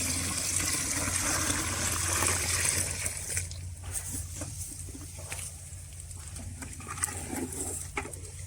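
Water poured and stirred into ground fish poison beside a village pond, a steady splashing trickle for the first few seconds that thins into scattered drips and soft patters, close and alone without voices.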